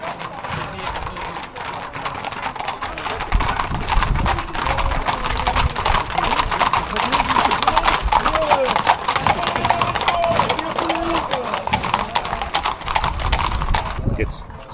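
A herd of horses mixed with bulls near Saintes-Maries-de-la-Mer in southern France clip-clops continuously, a dense patter of many hooves at close range. People talk over it throughout.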